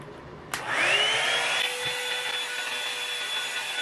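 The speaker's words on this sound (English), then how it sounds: "So I just blow dried my hair, and as you can tell, it's very puffy" A Revlon hair drying brush clicks on, then its motor whirs up with a rising whine into a loud, steady airflow hum that runs close and uninterrupted to the end.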